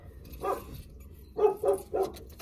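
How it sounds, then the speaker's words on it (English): The neighbor's dogs bark outside, one single bark followed after a pause by three quick barks in a row, moderately close and without voices. "Excuse the barking."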